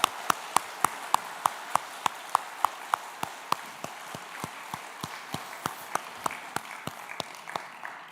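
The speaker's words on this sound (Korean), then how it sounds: "우리 박수 한 번 더 하도록 하겠습니다." A church congregation claps in a steady, even rhythm of crisp, separate beats, fairly quiet and sounding somewhat distant, with no talk over it.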